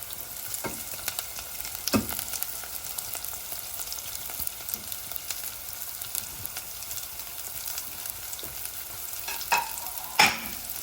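Aromatics frying in a pan for Sri Lankan green beans curry, giving a quiet continuous sizzle broken by a few sharp scrapes and clicks as a utensil stirs, with no voices.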